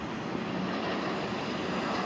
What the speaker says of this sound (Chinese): 红鹰飞行表演队的八架表演机正在驶出这个跑道，今天即将进行它的在本届航展的首次适应性的训练。